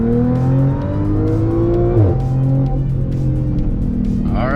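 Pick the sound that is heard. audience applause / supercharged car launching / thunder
supercharged car launching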